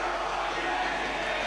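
A large arena crowd in the WWE 2K24 wrestling game keeps up a steady, dense roar of cheering, continuous and even throughout with no break.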